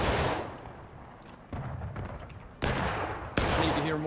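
Muzzle-loading rifles firing in the Civil War shooter War of Rights, several sharp, heavy reports spaced about a second apart, some near and loud, others more distant, with rolling battlefield rumble between shots.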